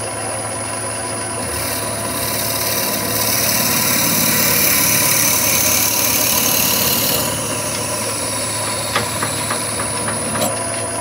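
A wood lathe spinning at about 1,000 rpm gives a steady motorized whir, humming continuously at high volume, swelling slightly in the middle, with a few light ticks and taps near the end.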